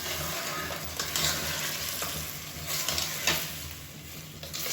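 Marinated chicken stir-fried in a pan for a white chicken gravy, a steady loud sizzle with repeated scraping stirs of the spatula running throughout, no voices.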